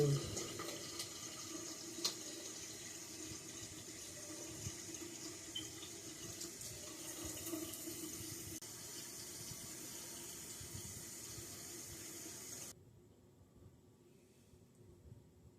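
A bathroom sink tap runs in a steady, close hiss of water while someone washes their face, then cuts off abruptly near the end, leaving quiet room tone.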